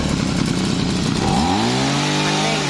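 A small Maruyama 26 two-stroke brush cutter engine buzzes loudly close by, then revs up sharply, its whine climbing in pitch and holding high.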